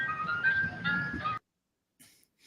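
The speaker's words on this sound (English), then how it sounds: "Sound of ice cream truck." Ice cream truck jingle, a thin, tinny melody played for about a second and a half before cutting off, followed by a brief faint sound.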